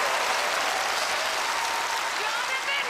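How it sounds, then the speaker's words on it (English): Studio audience applauding volunteers at a televised magic show, a steady, dense wash of clapping that fills the whole moment with no break. "Give my volunteers another big round of applause."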